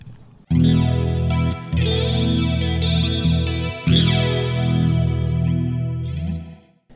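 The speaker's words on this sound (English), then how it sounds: "Flanger engaged." Electric guitar chords through a Kernom Elipse pedal's flanger ring out with a sweeping, whooshing effect, the tone rising and falling in jet-like swirls, loud and close.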